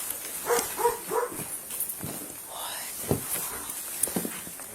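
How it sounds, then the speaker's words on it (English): A dog barks and moves around indoors inside a house while police officers talk nearby, the short barks and scrabbling footsteps coming at moderate distance under their voices. "Another dog? Yeah, he's running around."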